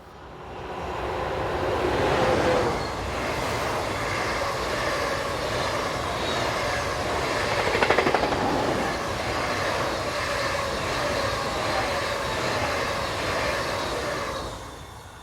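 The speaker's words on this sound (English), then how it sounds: "here are a pair of Class 402s, a shortened version of the similar Class 401" A pair of Class 402 trains passing, shortened versions of the Class 401: a sustained, loud rolling roar with rumbling wheel noise that swells slightly near the middle and holds for about fifteen seconds.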